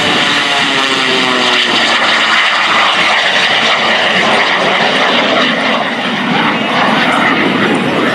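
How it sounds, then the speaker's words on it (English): Jet-powered Waco biplane with a CJ610 or J85 turbojet making an air show pass, a loud continuous roaring whine with shifting tones as it sweeps by close overhead. "go by and hear the exhaust from that CJ610 or J85."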